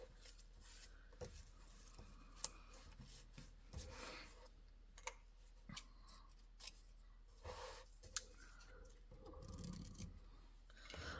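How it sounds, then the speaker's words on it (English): Scissors snipping off excess ribbon at an angle while crafting a paper folio, a few quiet, sharp close cuts spaced among soft rustling and handling noises. "Then I will cut off the excess ribbon at an angle so that it won't fray"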